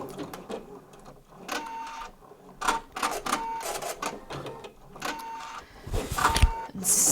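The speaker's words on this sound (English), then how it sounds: "So I love doing machine embroidery for this kind of thing" An embroidery machine stitches a sparkle tote bag in uneven bursts of rapid mechanical whirring and clicking, with short pauses and faint tonal motor whines between them.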